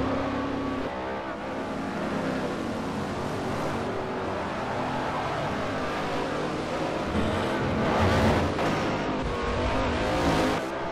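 V8 supercar racing engines in Forza Motorsport 4, several cars roaring together at full throttle in a dense, continuous drone that swells and rises in pitch as they accelerate.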